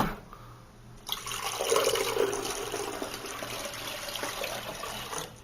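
Water poured into the removable tank of a home coffee machine, a splashing, gurgling stream that starts after a second of quiet and runs steadily, fairly close, until it stops just before the end.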